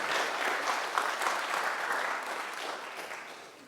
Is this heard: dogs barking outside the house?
no